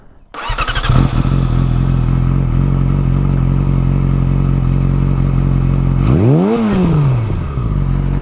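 A Yamaha R6 motorcycle engine starts and settles into a deep, steady idle close by, with a brief throttle blip rising and falling near the end.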